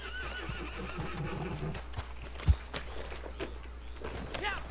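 Horse whinnying in the video game Red Dead Online, a few high neighs rising over soft hoof clatter and game ambience, with a voice talking faintly underneath.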